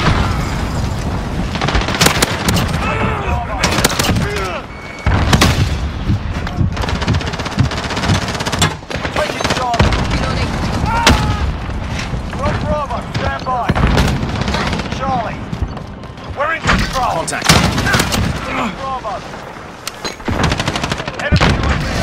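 Grenade explosion and gunfire in Call of Duty: Modern Warfare (2019) on the Shipment map, with loud repeated bursts of rapid automatic fire and heavy booms that fill the scene almost continuously.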